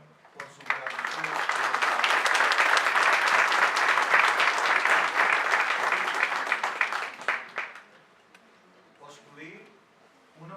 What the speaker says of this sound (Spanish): un aplauso al doctor Fino por su gratitud